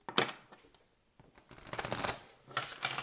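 An oracle deck of cards is shuffled and a card drawn, giving quick papery riffles and flicks in short bursts separated by brief pauses, close and fairly soft, with no talking.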